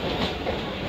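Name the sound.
Mumbai train running on rails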